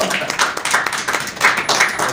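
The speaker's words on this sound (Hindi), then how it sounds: "आप सबसे तालियों से उनका इस्तकबाल करें।" An audience at an honoring ceremony and poetry gathering in Hyderabad claps in uneven, separate bursts rather than a full roar, with distinct individual hand claps rising and falling nearby.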